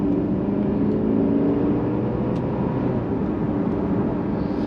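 A 2022 Mercedes-Benz C300 4Matic driving on a twisty road, heard from inside as a steady low engine and road hum with tire rumble, continuous and moderately loud, with no talking.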